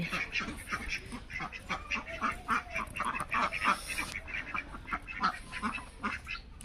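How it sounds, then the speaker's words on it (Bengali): Village ducks back from the pond on a cold, foggy morning quack in a busy, repeated chorus close by, with goose-like honks mixed in and faint voices in the background. "এই ঠান্ডার মধ্যে আমার হাঁসগুলা পুকুর থেকে উড়িয়ে আসলো"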